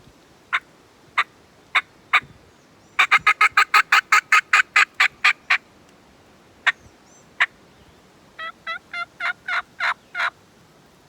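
Mouth call imitating a turkey hen's fly-down cackle: a few spaced clucks, then a rapid burst of sharp notes that slows and tapers off, followed by a run of short, rising yelps, all close and clear.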